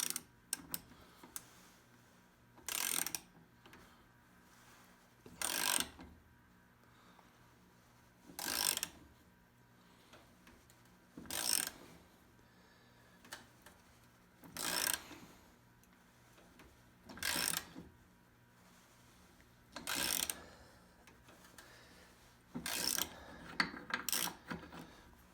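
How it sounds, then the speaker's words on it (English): A nut splitter working on a seized bolt nut of a snowplow light gives about eight separate bursts of ratcheting, grinding clicks, spaced a few seconds apart against a quiet background. "we're going to use a nut splitter"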